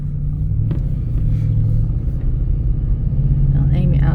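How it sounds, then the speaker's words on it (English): A loud, steady engine rumble from an old car while driving, with a low droning hum, continuous throughout, with faint voices mixed in underneath. "My poor old car, it's old and it's loud."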